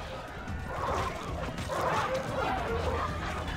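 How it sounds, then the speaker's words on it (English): War dogs in the Rome: Total War battle game yelp and bark in scattered bursts amid battle clamour, moderately loud, with someone talking over them. "Little annoying war dogs."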